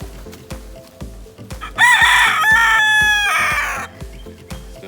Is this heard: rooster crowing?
yes